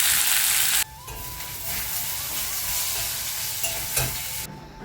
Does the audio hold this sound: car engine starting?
no